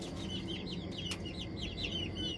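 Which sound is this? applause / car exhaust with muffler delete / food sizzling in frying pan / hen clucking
hen clucking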